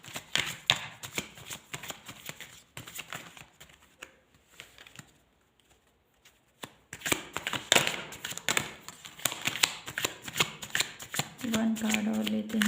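Tarot cards are shuffled close up in repeated quick riffling bursts, with a quiet pause in the middle before the shuffling resumes, ending with a short hum.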